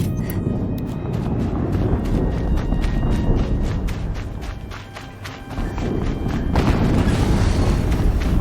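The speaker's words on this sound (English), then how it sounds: "Another explosion." Explosion in the video game Horizon Zero Dawn: a heavy, rumbling boom that sustains as a dense roar, swelling again near the end, loud and close with no talking.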